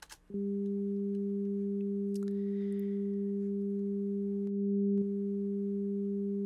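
A pure fundamental sine wave and its second harmonic at half the level sound together as a steady, unwavering electronic tone, loud and continuous, with a brief dip near the end.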